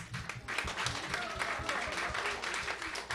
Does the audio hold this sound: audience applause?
yes